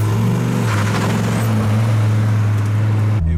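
Dodge Viper GTS V10 engine idling loud and close, a steady deep rumble with a slight lift in revs before cutting off abruptly near the end.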